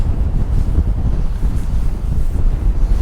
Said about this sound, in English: I know it's real windy